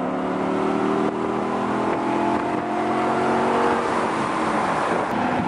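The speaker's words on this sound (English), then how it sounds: "Give us a couple of revs." An Audi R8 Spyder sports car engine revs and holds at high pitch nearby, its loud steady roar rising and falling slightly with no talking.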